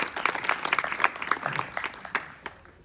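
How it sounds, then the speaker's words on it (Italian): A small audience at a book presentation gives brief, scattered applause, with distinct individual claps that thin out and stop within about three seconds. "Allora, un applauso, grazie."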